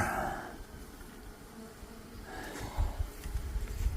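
Honeybees buzz in an opened hive during a spring check, a soft, steady hum close by that swells at the start and again near the end over some handling noise.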